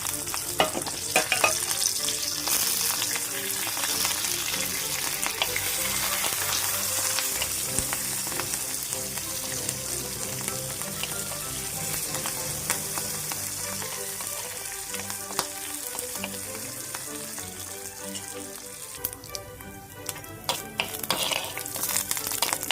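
Curry leaves crackle and sizzle in hot oil in a pan for a bean and toor dal curry, a steady close frying hiss with sharp pops and occasional stirring scrapes, no voices.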